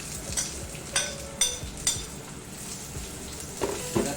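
Soaked cassava leaves sautéing with browned shallots and chili, a soft sizzle under several sharp clinks of a spatula against the pan, close and fairly quiet, with no talking.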